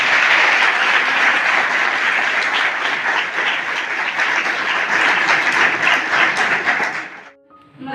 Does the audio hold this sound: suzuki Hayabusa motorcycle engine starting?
no